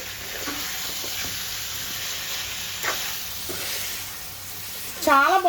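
A spoon stirs a sizzling pan of goat meat and cucumber curry, producing a steady close frying hiss with soft scraping strokes, and a brief voice comes in at the very end.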